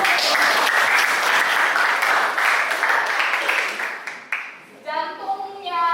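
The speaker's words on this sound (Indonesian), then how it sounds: "Oke, terima kasih, tepuk tangan dulu." A biology classroom claps together in a dense burst of applause that holds for several seconds, then thins out as a teacher's voice returns.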